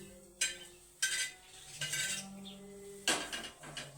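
Bitter gourd tossed into reddish frying onions in a pan, with several sharp metal clanks of a spoon against the pan and a steady sizzle between them.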